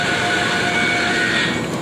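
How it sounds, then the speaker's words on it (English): The Goliath roller coaster train at Six Flags Over Georgia roars past on its track with a steady, loud rumbling rush and a high metallic whine, and there is no talking over it. "And they're running one train today."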